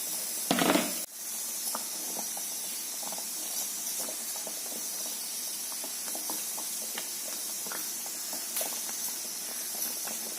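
Semolina (rava) cooking in boiling water with grated coconut for upma, a steady close hiss and faint bubbling simmer throughout, with a brief louder splash near the start.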